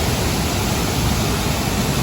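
A Taiwanese waterfall near Shifen roars as a dense, steady wash of rushing water, close and loud throughout with no voices over it.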